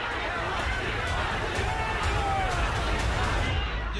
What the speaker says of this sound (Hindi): देखते ही देखते सड़कों से होते हुए लोगों की भीड़ बदलापुर रेलवे स्टेशन पर ही इकट्ठा हो जाती है